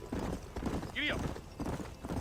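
A horse in a Western game setting clip-clops with fast hoofbeats and gives a short whinny midway, while a voice talks over the hooves.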